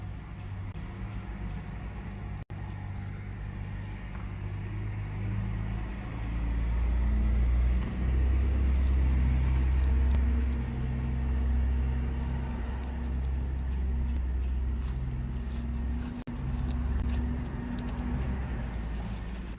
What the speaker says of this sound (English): Look at the armored car.